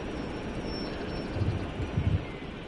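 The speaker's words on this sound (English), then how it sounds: "let's see if it actually pulls the whole train or not" A train pulls away in Train Sim World 6, a low rumbling drone with airy hiss and a slight swell of engine noise, steady and moderately loud with no talk.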